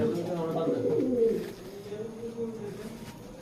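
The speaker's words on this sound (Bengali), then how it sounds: "এই জায়গায় হচ্ছে একটা চকলেট গররা একটা মাদি কবুতর" A chocolate Gola female highflyer pigeon coos in a low, wavering tone close by, with someone talking over part of it.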